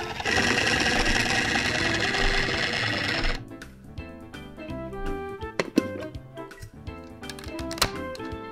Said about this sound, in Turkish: Bunları blender ile karıştıracağız.